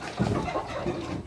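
Sentul chickens on an Indonesian farm give soft, short clucks and murmurs at close range, a brief cluster of quiet fowl calls with no speech.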